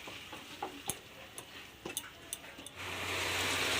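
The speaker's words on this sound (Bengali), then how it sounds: "দিয়ে আমি এবার কষিয়ে নেব মাংসটা" Meat stir-fried with coriander and Kashmiri chilli powder, a spatula clicking against the pan in scattered taps, then a rising sizzle that swells and holds near the end, fairly quiet overall.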